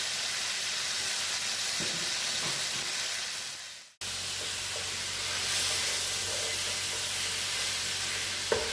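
Ginger garlic paste frying in a hot pan, a steady close hiss and sizzle that cuts out briefly midway, then resumes with a low hum beneath.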